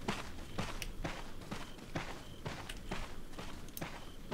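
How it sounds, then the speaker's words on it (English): Footsteps in the video game Resident Evil 4 tread in a steady, evenly spaced rhythm of about two steps per second, fairly faint and unaccompanied by talk. "I hear footsteps."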